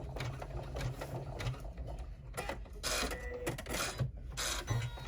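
An embroidery machine stitches the seams of a reusable snack bag in the hoop, a steady mechanical whir with rapid needle clatter running throughout, moderately close and alone.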